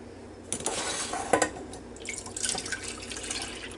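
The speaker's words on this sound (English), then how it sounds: "we're going to get the milk in the pot and set it on the stove" Milk poured from a container into a cooking pot for custard pie, a steady liquid splashing and trickling at close range for several seconds, with a few brighter splashes and light clinks of the pot.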